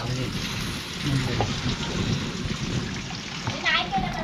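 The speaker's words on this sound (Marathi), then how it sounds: "बघा पाऊस काय मस्त पैकी लागतात." Steady rain falls outdoors in a Konkan village in the Malvan region, a continuous hiss of drops with a few low rumbles, as faint voices murmur in the background.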